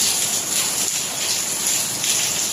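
Heavy rain falls in Dubai, a dense, steady hiss of water pouring and splashing on surfaces, loud and close with no talk.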